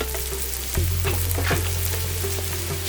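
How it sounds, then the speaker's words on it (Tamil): Ginger garlic paste hits hot oil in a pan with softened onions, making a steady close-up sizzle with occasional stirring scrapes and a rise in frying noise partway through. "நான் இப்போ 1 டீஸ்பூன் இஞ்சி பூண்டு விழுது சேர்க்குறேன்."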